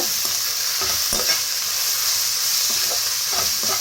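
Ginger garlic paste frying in hot oil for a prawn biryani: a steady, close hiss of sizzling with a few soft clicks of stirring, no voices.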